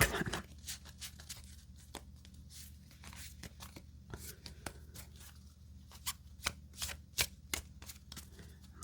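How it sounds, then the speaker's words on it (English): A deck of playing cards is shuffled in a quiet room for a game of Penguin solitaire, with crisp riffling bursts and scattered sharp card snaps, close and clear with no talking. "Let's give this one more shuffle"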